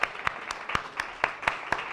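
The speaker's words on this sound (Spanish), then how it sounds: "Mira cómo te aplaudo." A single person clapping slowly and deliberately in a lecture hall, with about eight crisp claps spaced at a steady, even rhythm over quiet room tone.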